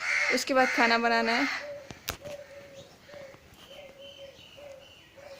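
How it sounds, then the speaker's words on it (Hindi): A crow caws repeatedly in the distance, evenly spaced short calls continuing through the clip, after someone speaks nearby at the start in a domestic setting. "ये कौवा बोल रहा है उधर"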